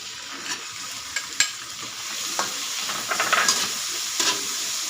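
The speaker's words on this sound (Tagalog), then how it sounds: "Mekos-mekos lang natin yan mga guys" Tomatoes get stirred into garlic and onion already sautéing in a pan for sinigang, a continuous hiss of frying broken by several spatula scrapes and knocks.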